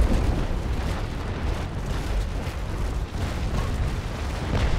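Naval warship cannon fire in an age-of-sail battle game, a continuous rumbling roar of overlapping booms, heavy and loud throughout with no clear gaps.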